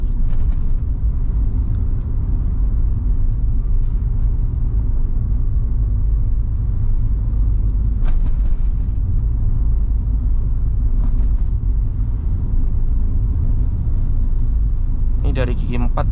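A car engine rumbles from inside the cabin while driving through narrow streets, a steady, loud low drone with a few brief clicks and knocks.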